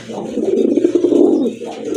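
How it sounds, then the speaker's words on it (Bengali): A pankhi fat pigeon gives a soft, throaty cooing call, close and continuous for about two seconds with a slight pause before it resumes, with no voices. "এটা হচ্ছে আপনার পাঙ্কি ফ্যাটের কবুতর"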